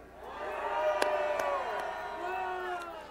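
A crowd of supporters gathered outside the Constitutional Court in Seoul shouts and cheers together, a dense, sustained roar of many voices with whoops rising over it, close and steady for about three seconds.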